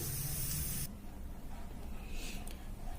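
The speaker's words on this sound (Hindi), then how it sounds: "कुकर की स्टीम निकल चुकी है।" Steam hisses out of a pressure cooker cooking spinach on a gas stove, a bright, steady rush that drops sharply in level after the first second and then continues more softly with a few brief spurts.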